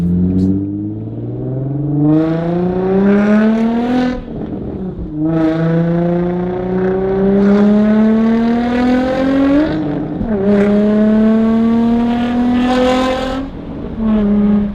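A car with a Tomei Ti titanium exhaust revs hard and loud in three long rising pulls, each climbing in pitch before dropping off, with no talking over it.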